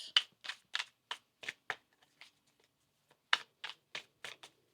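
Tarot cards riffled in a deck, a series of crisp, close bursts of papery flutter in two groups separated by a short pause.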